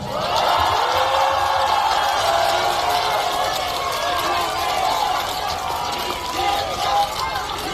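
A large crowd at a Korean Democratic Party election rally roars and claps in a loud, continuous, dense wash of voices and applause that holds steady for the whole stretch, with some shouting mixed in.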